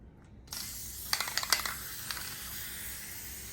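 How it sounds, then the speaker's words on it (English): Spray adhesive hisses steadily onto Reflectix foil insulation for car-camping window covers, starting after a brief quiet moment, close and moderately loud, with a few sharp clicks and rattles from the can early on. "we're going to start by spraying the Reflectix."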